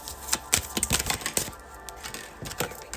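A deck of cards is shuffled by hand, giving quick bursts of crisp, rattling clicks and flicks in an uneven rhythm, close and fairly quiet.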